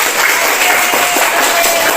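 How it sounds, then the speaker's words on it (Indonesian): A classroom of students clapping together, a loud, dense burst of applause with a few voices mixed in, sustained evenly throughout. "Oke, tepuk tangan dulu."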